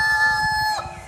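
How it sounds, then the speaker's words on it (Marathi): A rooster crows at dawn in a Konkan village, a single loud, close call with a bright sustained tone that drops off sharply near its end. "पहाटेच्या वेळी त्या कोंबड्याने दिलेली बाग,"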